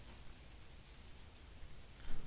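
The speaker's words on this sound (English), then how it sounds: "It's just raindrops." Raindrops falling in the video game Phasmophobia, a soft, faint continuous patter with a slightly louder swell at the end and no voices.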